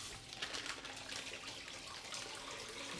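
Kitchen tap running during home meal prep, a steady broadband hiss of flowing water that holds constant and fairly quiet for the full three seconds with no talking over it.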